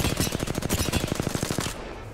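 Rapid automatic gunfire in a shooter video game, a steady burst of about twenty closely spaced shots lasting under two seconds before cutting off into quiet.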